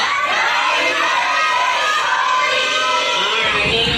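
Crowd at a child's 7th birthday celebration shouting a birthday greeting together on cue, a loud, sustained mass of voices filling the clip, fading slightly at the end.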